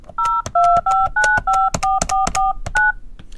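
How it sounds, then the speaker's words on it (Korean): A quick run of telephone keypad tones sounds as a number is punched in to place a call, about a dozen crisp, evenly spaced beeps, close and loud, with no talking. "전화 한번 해볼게요."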